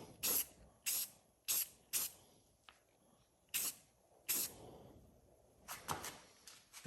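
Short bursts of satin black spray paint hiss from an aerosol can onto Stanley No. 945 ratchet brace parts, about eight quick sprays with gaps between them, close and fairly quiet.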